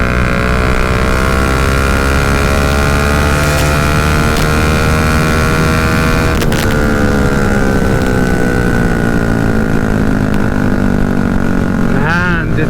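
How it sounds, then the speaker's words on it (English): Loud, sustained exhaust roar from a Bajaj Dominar 400 motorcycle, close up, with engine harmonics climbing steadily through a hard run and a brief shift-like dip near the middle. "This exhaust note is so fucking loud."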